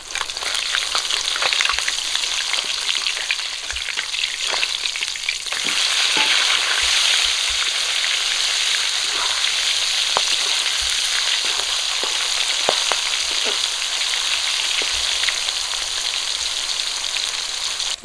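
Pieces of rui fish fry in hot oil, giving a loud, continuous, crackling sizzle close up, with occasional pops and stirring noises and no voices.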